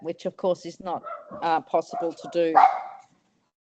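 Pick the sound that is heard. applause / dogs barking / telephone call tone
dogs barking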